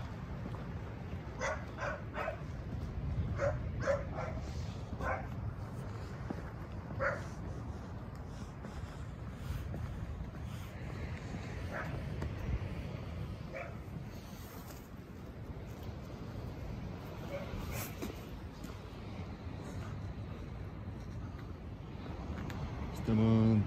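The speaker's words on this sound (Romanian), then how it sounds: "O, simți și câinii că am trecut contele Dracula pe aici" Dogs bark and yip at intervals, some close and some farther off, with a few whimpers mixed in under ongoing talk and background noise.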